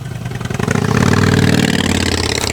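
A 2008 Harley-Davidson Road Glide fitted with Reinhardt exhaust idles with a deep, loping V-twin rumble, then revs up into a louder, sustained throaty growl, close by with no talk.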